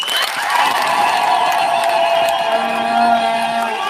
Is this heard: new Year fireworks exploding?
no